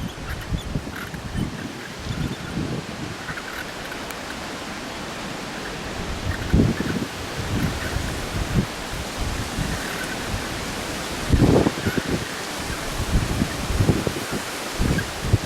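Wind blowing through leaves in a backyard on a cold, windy day, a steady broadband rush with gusty swells and occasional louder low thumps, no talk.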